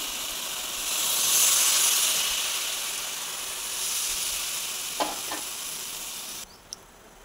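Water added to pumpkin leaf stalks frying in a pan sends up a hissing sizzle that swells briefly, then fades into a soft simmer, followed by a couple of light utensil knocks.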